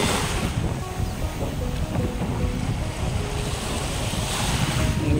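Sea waves roll in steadily at Cha-am beach in Phetchaburi, Thailand, a continuous loud wash of surf mixed with cool wind buffeting the microphone, with no voices.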